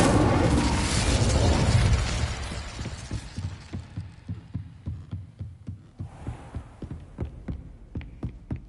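Confringo and Incendio spell blasts in Hogwarts Legacy begin with a loud roaring burst that fades over two seconds. A long run of evenly spaced deep thuds follows, pulsing like a heartbeat, with no voices.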